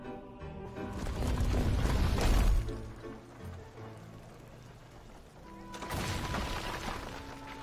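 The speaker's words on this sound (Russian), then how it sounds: "Так, отлично, это был первый выстрел." A catapult fires in the video game Might and Magic Heroes 7, a heavy booming launch and crash with rumbling impact, then a second loud crashing burst later over game music.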